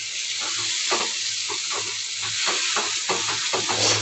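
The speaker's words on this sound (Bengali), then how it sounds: "চিকেনগুলো দিয়ে রান্না করে নিই একদম লাল লাল মশলা হয়েছে" Chicken pieces frying in red masala and oil in a pan, a continuous loud sizzle with rhythmic scraping strokes of a spatula stirring every half second or so, close up.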